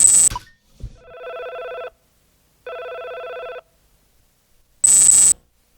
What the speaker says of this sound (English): So that's when we are supposed to pick up the phone.